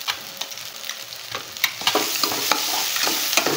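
Onions frying with salt in a pan for egg curry, a steady sizzle with scattered crackles and pops and occasional stirring scrapes, close and continuous with no talk.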